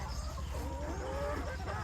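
Several chickens cluck and murmur softly while drinking water, with short chirpy calls rising over a steady low background rumble.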